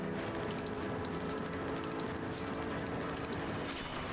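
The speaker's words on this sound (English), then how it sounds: "Ah, God damn it, the train up ahead." Steady rumbling train passing through a tunnel in the video game LA Noire, a dense continuous roar with rattling clatter throughout, loud and close with no talking.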